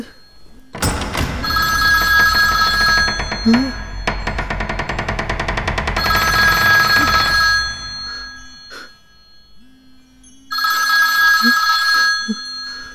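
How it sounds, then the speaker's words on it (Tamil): A telephone rings in loud electronic bursts, a long stretch of ringing, a pause, then another burst near the end, close and clear with little else around it. "ஃபோன் சவுண்ட் கேட்குது."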